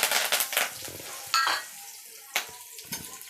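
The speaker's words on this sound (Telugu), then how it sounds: "పోపు చిటపట్లాడిన తర్వాత" Mustard seeds and spices tempered in hot oil in a pan for a raw mango and raw banana dal dish, crackling and sizzling in irregular bursts with a few sharper pops, close and moderately loud, no talking.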